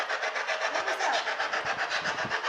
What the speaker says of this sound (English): No, it was a motorcycle. It wasn't in here. No, I mean it was a motorcycle out there.